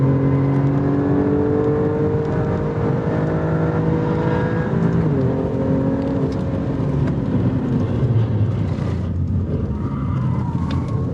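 A 2024 Alfa Romeo Stelvio Quadrifoglio accelerates on a race track, its engine note climbing and shifting through gears in a loud, continuous, close-up drone with no voices.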